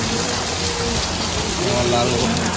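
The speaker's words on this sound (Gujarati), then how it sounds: "વરસાદ જો ચાલુ થઈ ગયો છે." Steady, dense hiss of rain falling continuously during a storm, loud and close, with no breaks.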